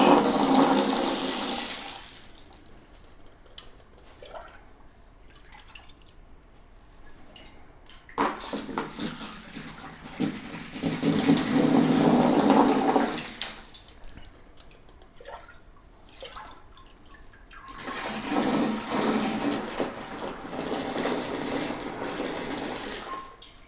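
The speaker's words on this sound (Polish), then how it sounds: "Nalewamy tak, żeby jak najbardziej napowietrzyć." Liquid pours from a pot and splashes in three long gushes separated by quieter dripping, aerated for fermenting a Pina Colada brew, close by and fairly loud, with no voices.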